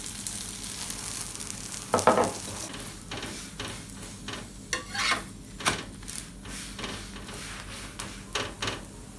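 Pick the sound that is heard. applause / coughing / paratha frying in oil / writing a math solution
paratha frying in oil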